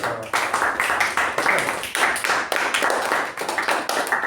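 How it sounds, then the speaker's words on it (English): Members at a Toastmasters club meeting give a round of applause, steady, dense hand clapping that stays close and even for the whole stretch, pulsing slightly without pause. "Can we have a big round of applause for Toastmaster?"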